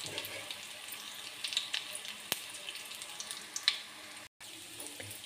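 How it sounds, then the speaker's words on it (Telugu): Dried red chillies, coriander seeds, cumin and curry leaves frying in oil over low heat, giving a steady close sizzle with small pops and crackles throughout. "సిమ్లో బాగా వేయించుకోవాలి"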